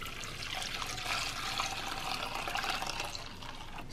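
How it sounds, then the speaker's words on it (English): Homemade eggnog mixture of milk and eggs being poured back into a saucepan, a steady close liquid splash and trickle running continuously without talk. "I'm going to actually pour them back into the saucepan."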